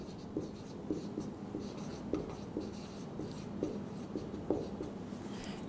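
A pen scratches out a maths answer on paper in a class 7 integers lesson, a steady run of soft, close strokes and small taps with a faint room murmur beneath.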